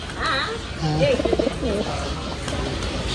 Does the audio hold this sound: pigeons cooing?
yes